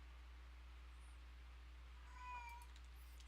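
A cat meows in the video game Project Zomboid, a short plaintive call rising over a steady low hum, fairly faint and with no one talking.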